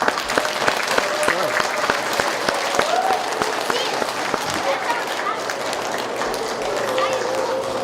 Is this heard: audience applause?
yes